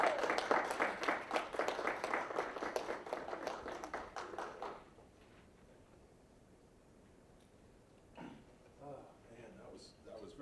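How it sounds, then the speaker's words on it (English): A crowd applauds loudly for about five seconds, the clapping dense and steady before it fades into quiet room noise and a few faint voices. "give a big, one more shout out, round of applause for Professor Pontell"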